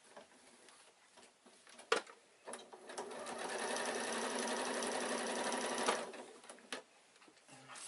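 A sewing machine stitches down the long edge of a quilted evening bag with wadding inside, a few short bursts first, then a steady whirring run of about three seconds, followed by a couple of brief stops and starts.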